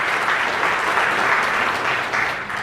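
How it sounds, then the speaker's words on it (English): Audience at a middle school assembly applauding steadily and loudly throughout, a dense continuous clatter of many hands with no voices over it. "Give you guys a round of applause."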